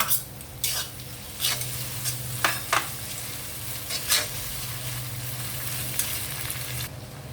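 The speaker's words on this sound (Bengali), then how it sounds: "আমি পেঁয়াজটা সামান্য একটু ভাজবো এবার আমি আদা রসুনের পেস্টটা জিরাটা দিয়ে দিব" Onion sizzles in a pan with ginger-garlic paste and cumin as a spatula scrapes through it in several distinct strokes over a continuous loud frying hiss, with occasional light metal clinks.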